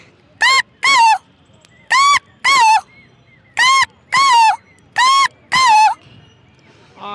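A man imitates the call of an Asian koel, voicing loud, close, rising whistled notes in four paired bursts separated by short pauses.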